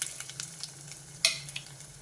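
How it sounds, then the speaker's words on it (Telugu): Onions and green chillies frying in hot oil in a pot on a stove, a faint soft sizzle with light stirring clicks and one sharper scrape partway through. "ఈ ఉల్లిపాయలు, పచ్చిమిరపకాయలు కొంచెం వేగాలి."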